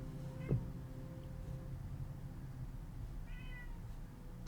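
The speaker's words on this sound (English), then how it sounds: "Is that my cat?" A cat meows once, a short clear call close to the microphone, against a steady low background hum with no speech.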